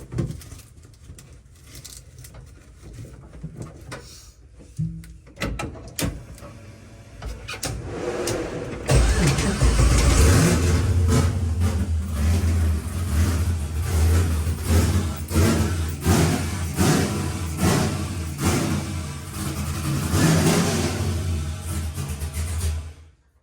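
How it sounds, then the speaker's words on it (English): A big V8 engine starts with a roar after some quieter shuffling, then settles into a loud, rumbling low-RPM idle with repeated revs, close by. "I don't think it sounds the best just because it's a V8"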